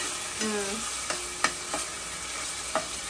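Onions fry in a pan for an egg and tamarind-leaf curry, with a soft steady sizzle broken by a few sharp scrapes and taps of stirring, close and alone.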